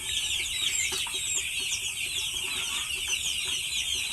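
Ten-day-old broiler chickens in the brooding stage, a dense flock of chicks giving continuous high peeping and chirping with soft clucks, steady and fairly loud with no pauses.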